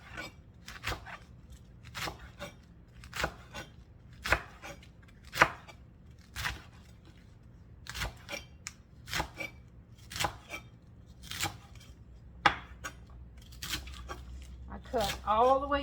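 A knife chops collard greens down along the stem on a cutting board at home, giving a steady series of crisp, close chopping taps at a brisk, slightly uneven rhythm.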